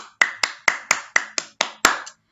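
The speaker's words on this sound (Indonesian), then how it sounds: "Beri tepuk tangan" Eight sharp, evenly spaced hand claps in a classroom, each a crisp close snap with quick decay, given after group presentations, with no talking in between.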